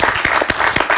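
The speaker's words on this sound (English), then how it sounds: "give them a round of applause" A live talk-show audience breaks into a brief, dense burst of applause, loud and steady for about a second.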